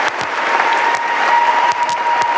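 Steady crowd applause, loud and continuous, from an audience responding to a speech, with faint scattered voices.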